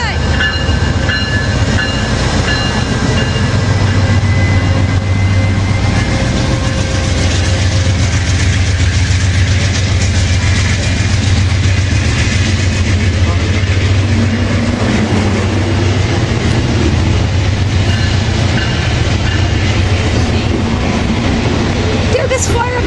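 An Amtrak train on the Surf Line has its GE diesel locomotive fired up, a loud, sustained low engine drone and rail rumble running throughout, with voices talking over it now and then.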